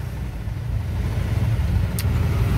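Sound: cars in a traffic jam

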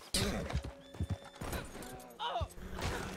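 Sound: horse hooves and neighing in video game Red Dead Redemption 2 Online

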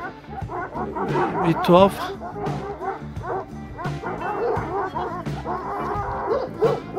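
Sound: Kangal dog puppies barking and whimpering

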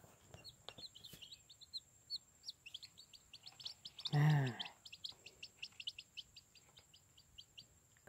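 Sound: junglefowl chicks chirping

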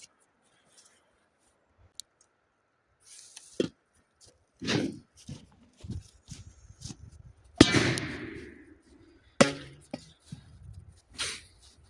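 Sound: firecrackers exploding in a pot

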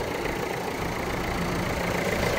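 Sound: Renault Modus 1.5 dCi diesel engine idling quietly

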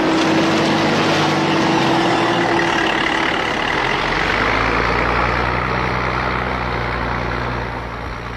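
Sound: trucks hauling laterite soil for road building

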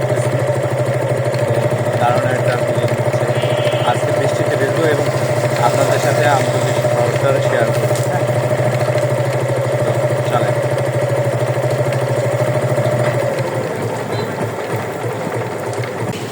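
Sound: motorcycle engine while riding through town

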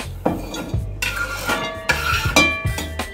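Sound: transferring chopped salad ingredients into a bowl

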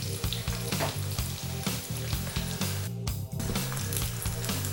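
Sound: pork skin cutlets frying in a pan

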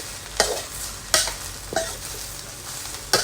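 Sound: stir-frying mackerel chili paste in oil

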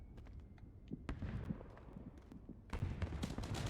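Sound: distant gunfire sounding like fireworks in PUBG video game

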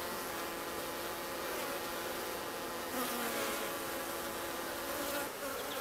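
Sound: honey bees buzzing on the comb frames

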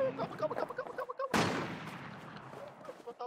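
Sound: gunshot in a video game

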